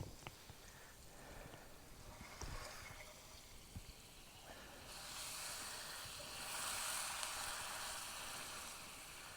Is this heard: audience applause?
no